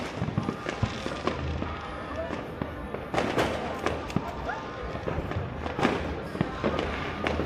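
New Year's Eve fireworks crackle and pop repeatedly in irregular bursts, some sharp and close, others distant, with voices faintly mixed in among the bangs.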